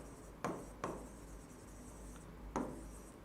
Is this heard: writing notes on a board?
yes